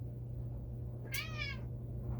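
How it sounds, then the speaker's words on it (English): A house cat gives a single drawn-out meow near a table, loud and close over a steady low hum. "Crawler Cat's over here trying to jump up on the table."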